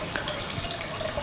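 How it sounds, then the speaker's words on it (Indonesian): Tap water running steadily in a biology laboratory while preserved specimens soak, heard as a continuous close hiss and splash with faint drips throughout. "dalam air mengalir,"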